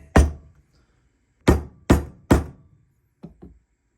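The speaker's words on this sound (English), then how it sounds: "I'm just going to use the hockey puck method again. Going to gently hit it until it taps out." A hockey puck strikes a part being seated into a 1973 Yamaha CT3 175 engine during a rebuild: one solid knock, a pause, then three evenly spaced thuds and two lighter taps, close and dry with nobody speaking.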